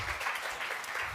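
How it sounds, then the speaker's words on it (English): A university lecture audience applauds steadily, a dense patter of many hands clapping at moderate distance, filling the whole short moment without a pause. "A round of applause for George."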